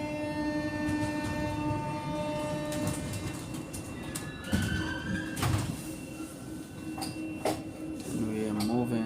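A Paris subway train runs with a steady rumble and clatter, heard from inside the car. Scattered knocks and a brief squeal come through, and voices talk quietly underneath.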